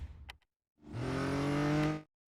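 Race car engine from the Real Racing 3 mobile game, a brief rising roar that swells for about a second then cuts off, after a short scrap of faint noise at the start.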